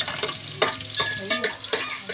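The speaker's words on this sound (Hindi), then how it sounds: "इधर प्याज ब्राउन हो रहे हैं।" Onions browning in a pan for a Punjabi home-cooked curry, a steady close frying sizzle with intermittent scrapes and stirring clatter, no talk.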